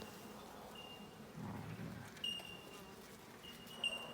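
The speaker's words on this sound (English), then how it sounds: "They are happy bees." Honey bees buzz faintly around a beehive built from a slip, a soft low hum with brief louder passes of individual bees against quiet background.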